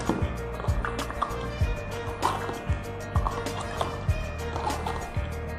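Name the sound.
stirring water in a glass after adding Kangen Water drops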